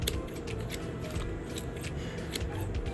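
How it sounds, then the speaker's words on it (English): Scissors chopping yarn into fuzz over a cutting mat, a soft continuous snipping and rustling close by with faint repeated crisp clicks of the blades. "get some yarn and then chew it up with my scissors"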